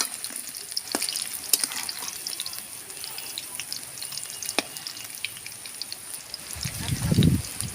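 Pea pakoras sizzling in hot oil, a continuous bright frying hiss with occasional clinks and a low rumble near the end, no talking.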